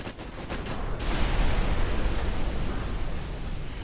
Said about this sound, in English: oh no, there's another torpedo!